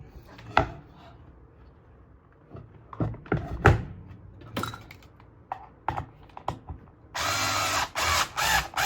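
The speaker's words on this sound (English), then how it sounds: "I'm going to, screw this through this hole here." A screw is driven through a blind hole in the spindle of a homemade motorised turntable, heard as scattered clicks and short clattering handling knocks, then a dense burst of driving noise near the end, close up with no talk.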